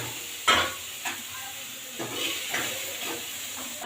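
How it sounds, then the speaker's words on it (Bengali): Soybean chunks frying in oil in a pan, a steady near sizzle broken by several scraping stirs, the first one loud and the rest softer, spaced unevenly. "এবার দেখুন আমাদের সোয়াবিনগুলো একটু ভাজা ভাজা হয়ে গেছে"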